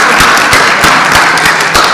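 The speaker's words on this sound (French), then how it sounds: "je vous demande tous et toutes ici présents d'applaudir chaudement tout le" An audience applauds warmly and steadily at close range, a dense wash of clapping with a few sharper individual claps standing out, no voices over it.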